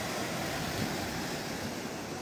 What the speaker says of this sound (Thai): ทำให้น้ำเป็นคลื่นใหญ่ๆ